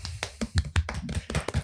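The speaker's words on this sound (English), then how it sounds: "Round of applause." A short run of sharp, uneven claps from a few hands, close and fairly loud, spaced irregularly over under two seconds.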